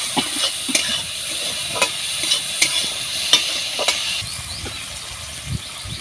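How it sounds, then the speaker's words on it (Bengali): Chopped onion and green chili sizzle in hot oil while a spoon or spatula stirs them, giving a constant loud hiss broken by scattered scraping clicks against the pan. "পেঁয়াজ কুচি, কাঁচা লঙ্কা একসাথে দিয়ে ভালো করে নাড়াচাড়া করে নেব"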